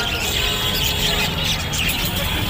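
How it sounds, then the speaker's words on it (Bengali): Budgerigars chirp en masse at the Tongi Bazar bird market, a dense, constant, loud high chatter with no pauses. "এখানে দেখতে পাচ্ছি অসংখ্য বাজিগার পাখি"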